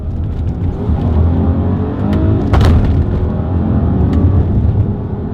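A 2018 Volkswagen Passat GT engine accelerating, a loud, close, steady engine roar with road rumble from inside the car.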